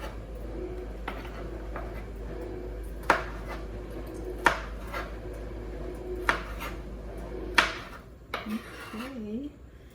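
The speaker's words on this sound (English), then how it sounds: "I'm gonna just chop them pretty little" Knife chopping black olives and red onion on a cutting board for a Greek pasta salad, a series of sharp, close knocks at an irregular pace, with some clattering and a faint cooing bird near the end.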